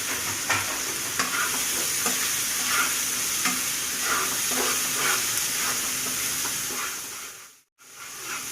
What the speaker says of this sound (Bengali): এইভাবে কয়েক সেকেন্ডের মতো মশলাটা আমি কষিয়ে নেব কম জালে